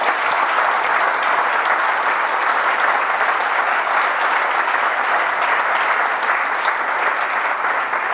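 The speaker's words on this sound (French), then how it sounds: "j'aimerais que vous les applaudissiez encore" A conference audience applauds steadily and loudly, a dense unbroken wash of clapping with no voices rising above it from start to finish.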